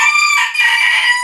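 A rooster crows loudly and close in a single drawn-out call, a sound effect in a radio advert for a Korean chicken restaurant brand.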